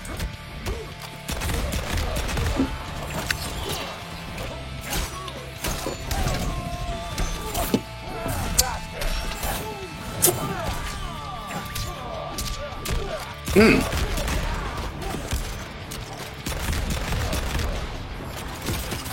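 Gunfire rattles through a shooter video game, with dense overlapping shots, bursts and crashes running steadily for nearly twenty seconds amid a busy layered game soundtrack.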